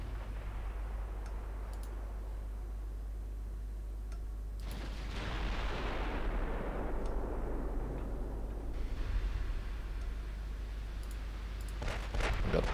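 Battleship guns fire in the naval strategy game Ultimate Admiral Dreadnoughts, a heavy distant boom around the middle followed by a long rumbling decay over steady low engine drone and scattered small clicks.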